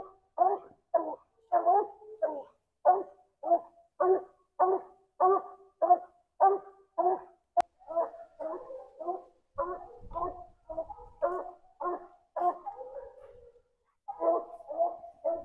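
Coon hunting dogs bay at a treed raccoon, sending out a long series of rhythmic, evenly spaced barks and bawls that come from some distance and continue with brief pauses, with no speech over them.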